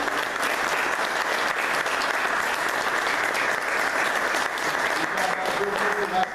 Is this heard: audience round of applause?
yes